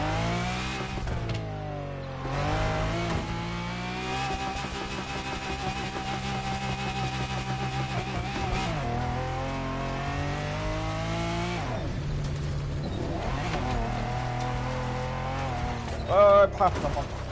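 Engine drone and tyre noise come from a car in a racing video game. Steady revving tones climb and shift through gear changes over about seventeen seconds, with brief skids, and no talk is heard.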